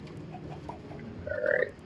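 Chickens cluck in the Minecraft video game, with soft scattered clucks over low background noise followed by a louder, clearer squawking cluck near the end.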